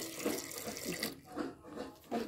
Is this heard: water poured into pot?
yes